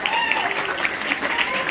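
Applause from an audience at a live hypnosis stage show, a steady wash of clapping sustained throughout with a voice talking over it.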